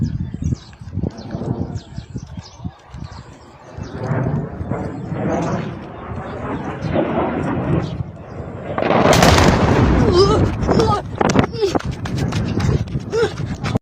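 A strike on Kirana Hills sends a loud blast through the scene near the nine-second mark. A broad burst swells and then rumbles away, with scattered pops and crackles before and after it, all under excited voices talking.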